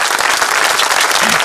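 Audience applause after a speech in a Hindi film scene, a dense, steady wash of many hands clapping loudly and evenly throughout.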